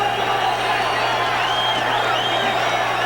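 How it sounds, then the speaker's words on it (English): A boxing crowd in the final seconds of a round makes a loud, continuous murmur of many voices, with scattered whoops and shouts rising over it. A steady low hum runs underneath. "Good crowd now is stirring"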